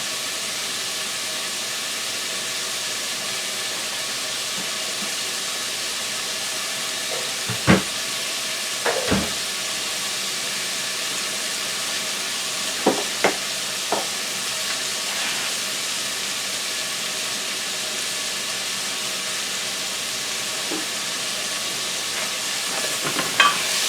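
Chicken breast sautéing in a hot pan gives a steady, close sizzle and hiss throughout, broken by a few sharp clinks and scrapes of stirring.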